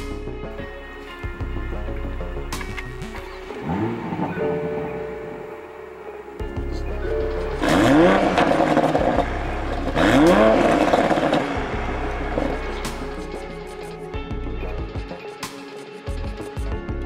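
A 2020 Toyota Supra drives with its exhaust in sport mode, engine drone rising in two strong revving surges mid-clip amid road rumble and cabin clatter, heard from inside the car.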